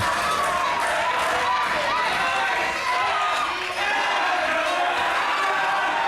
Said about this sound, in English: the crowd just electric and roaring at Rufguts to tap out